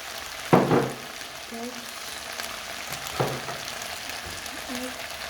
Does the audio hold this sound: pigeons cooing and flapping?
no